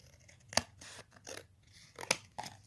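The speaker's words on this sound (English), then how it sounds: "let me cut out this also" Scissors snip through paper while cutting out a polygon angle for a class 8 maths activity, two sharp close snips with softer rustling between, quiet and without talk.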